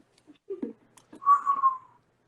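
A person whistles a short, clear tune that swells and fades over about a second, preceded by a few faint mouth sounds, in a quiet room with no talking.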